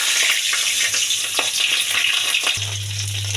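Dried and green chilies fry in hot oil, a dense loud sizzle broken by spatula scrapes, with a low hum beneath.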